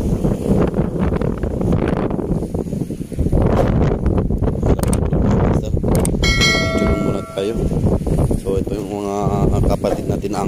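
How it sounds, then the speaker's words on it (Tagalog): Strong wind buffets the microphone in a steady roar while fishing, with someone talking over it throughout and a brief tonal ringing near the end. "So lakas talaga yung hangin"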